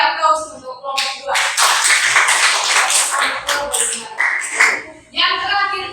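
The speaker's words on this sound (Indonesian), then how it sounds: "Mari kita beri aplaus untuk kelompok 2." Classroom applause for a student group after their presentation, a burst of many hands clapping that swells quickly, holds for a few seconds and trails off, with a voice speaking briefly before and after.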